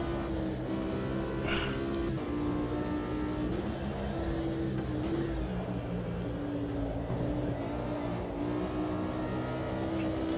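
Race car engine in the Automobilista 2 racing game, a steady sustained drone holding a roughly constant pitch with small shifts, continuous and loud throughout with no talk.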